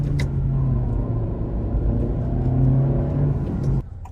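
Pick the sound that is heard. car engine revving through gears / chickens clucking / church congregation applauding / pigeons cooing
car engine revving through gears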